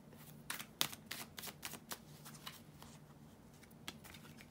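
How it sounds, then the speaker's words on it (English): Tarot cards being shuffled by hand, a rapid series of crisp riffling bursts and taps close to the microphone, over a faint steady hum. "to shuffle the tarot cards"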